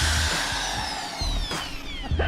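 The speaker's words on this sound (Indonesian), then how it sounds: "kiri dan kanannya kita bor" Power drill boring holes into the sides of a frame for a water tank foundation, its motor whining loudly and shifting pitch as it bites in, close and continuous.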